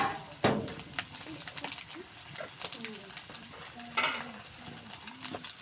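Cumin, garlic and ginger pastes frying with onions in a pan, giving a soft sizzle under intermittent stirring and scraping, fairly quiet and close, with faint voices here and there.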